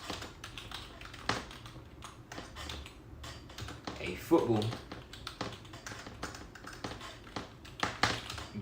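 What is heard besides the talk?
typing on a computer keyboard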